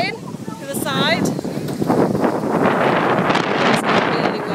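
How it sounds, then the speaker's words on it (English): Gusty wind buffets the microphone with a constant low roar, while people talk over it. "It's getting really windy."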